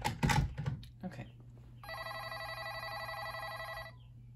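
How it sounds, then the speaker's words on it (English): A Cortelco Patriot II business telephone rings its electronic ringer in a steady warbling trill lasting about two seconds, loud and close, after a brief bit of talk and some handling clicks. "I'll let it do ring back, and you can hear how the ringer sounds."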